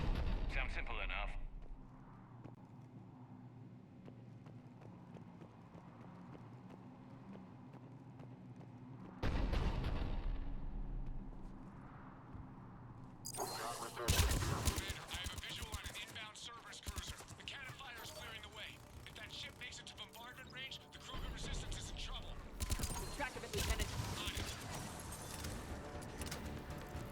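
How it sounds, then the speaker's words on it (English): A Cerberus cannon in Mass Effect 3 booms amid combat, heavy detonations and gunfire erupting loud and chaotic after a quieter stretch with voices talking underneath. "Looks like Cerberus got that cannon operational, Commander."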